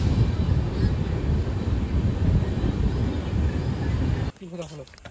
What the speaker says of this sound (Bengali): তো এটা বালুরঘাট এক্সপ্রেস, আমরা এটাতে করেই কিন্তু আসলাম।